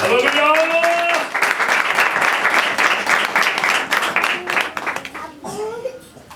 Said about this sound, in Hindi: आइए खुदा के कलाम के लिए भरपूर ताली बजाइएगा